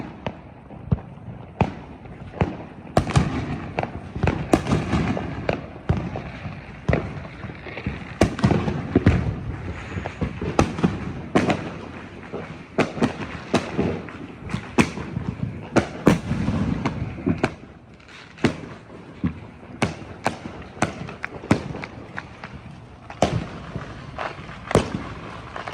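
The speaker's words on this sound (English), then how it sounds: "Get a better view of the fireworks over there." New Year's Eve fireworks burst over a neighborhood, an irregular string of cracks and booms, some close and sharp, others distant and muffled, continuing throughout with no clear talk.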